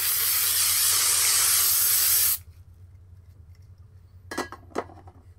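A spray can in the horror game Outlast 2 hisses loudly and steadily for about two seconds, then cuts off, followed by two brief sharp clicks or clatters.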